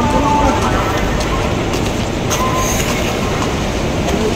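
A local passenger train on a Bengal line, Burdwan local, runs steadily, a dense continuous rumble of wheels and carriage noise with faint clatter throughout, and a voice talks faintly over it.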